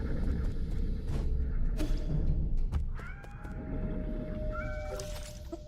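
Several cat meows from the game Nine Sols, clear and fairly close, repeating irregularly over a steady low ambient bed with no talk.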